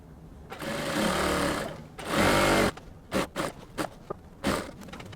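A sewing machine runs close and clear as it stitches a dress side seam, two longer sustained bursts followed by several short stop-start runs, with no talking.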